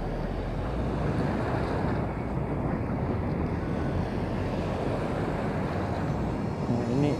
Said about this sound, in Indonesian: ini ombaknya gulung-gulung sekali nih ya